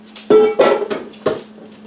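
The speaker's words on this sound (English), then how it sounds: "I'm just going to kind of stir this together" A spoon scrapes and clanks against a dish, stirring broccoli and onion into a chicken and rice casserole in four short, close strokes over a low background hum.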